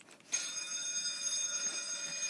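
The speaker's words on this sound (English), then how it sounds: "Ah, the real alarm!" An electronic alarm bell starts abruptly and rings continuously at steady volume, a bright metallic tone with no voices.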